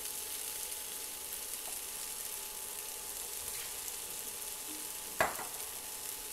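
Potatoes fry in a pan, a steady close hiss of sizzling oil running throughout, with one brief utensil knock near the end.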